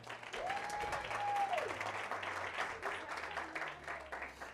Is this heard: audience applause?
yes